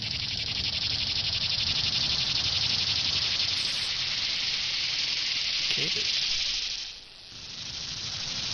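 Cicadas drone in a Minecraft Twilight Forest mod world, a dense, steady high buzzing chorus that fills the scene continuously before briefly dipping near the end.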